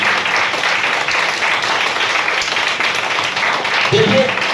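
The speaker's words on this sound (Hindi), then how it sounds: "एक बार ऊपर वाले के लिए जोरदार ताली बजाएं" Audience at a direct-selling team meeting claps loudly, a steady dense wash of applause that holds throughout, with a brief voice near the end.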